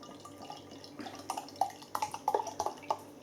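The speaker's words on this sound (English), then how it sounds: "Beer pouring out then." Roosters Yankee Pale Ale pours from a bottle into a glass, a soft liquid stream with bubbly glugs and splashy drips that grow more frequent toward the end, fairly quiet and close.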